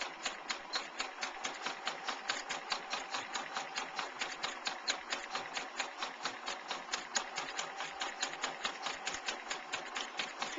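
A sewing machine stitches fabric around a heart-shaped curve for a needlecase, running at a steady, even, rapid rhythm of needle strokes. It is close and moderately quiet, with no voices.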